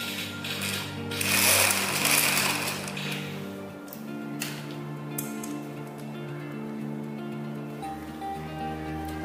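A sewing machine runs steadily while elastic is sewn onto a gathered skirt, its motor giving a continuous whirring hum with a louder rattling stretch early on.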